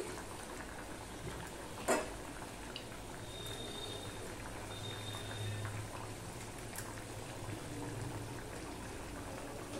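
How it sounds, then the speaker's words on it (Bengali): Rui fish curry gravy boiling steadily in a pan as fish pieces are added one by one, a continuous bubbling hiss with a sharp clink near the start and faint brief tones above. "ঝোলটা ফুটে উঠলে একে একে আমি মাছগুলো দিয়ে দিচ্ছি।"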